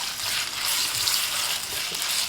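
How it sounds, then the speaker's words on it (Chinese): Minced pork stir-fries in hot oil in a wok, a steady bright sizzle with soft scraping stirs running continuously and close throughout. "锅中放油，油热后放入猪肉馅儿， 给它翻炒一下"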